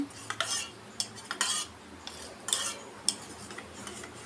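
A utensil clinks and scrapes against a glass in quick bursts, whisking omelette egg mixture at close range with short pauses, no voices.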